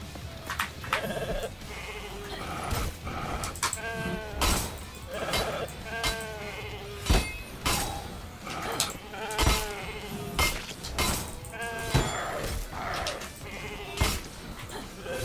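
Goats in the For Honor April Fool's event bleat repeatedly in short wavering cries amid clattering game hits and thumps, loud and close with irregular rhythm and little talk.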